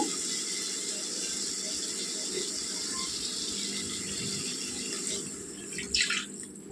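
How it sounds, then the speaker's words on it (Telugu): Water pouring steadily into a pan of cooked sorrel leaves, a continuous splashing rush that turns briefly sharper near the end. "నీళ్ళు వేసుకోవాలండి"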